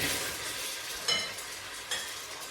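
Onions frying in a pot with partly cooked lamb for Iraqi tashreeb: a steady, fairly quiet broadband sizzling hiss, with two brief sharper crackles as the onions hit the hot fat.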